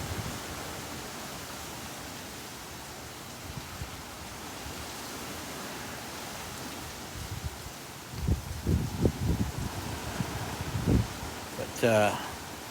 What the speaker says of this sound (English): I would say those winds are about 30-40 miles per hour